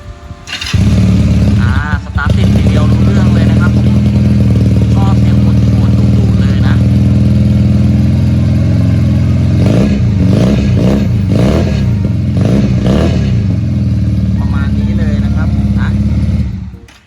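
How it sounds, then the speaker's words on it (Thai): A 2019 GPX Legend 250 Twin motorcycle fitted with an aftermarket exhaust starts up and idles with a loud, throaty burble close by, then revs hard several times before settling back to idle. "เรามาฟังเสียงท่อแต่งกันหน่อยดีกว่านะฮะ"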